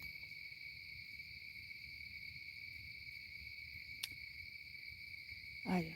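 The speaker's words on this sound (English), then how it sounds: "I just heard an owl." An owl gives one short, low hoot near the end, outdoors at night, over a steady, loud chorus of crickets and insects that fills the whole stretch.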